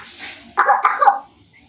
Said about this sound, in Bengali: খেতে গিয়ে ওরম করলে কাশি হয় জানিস তো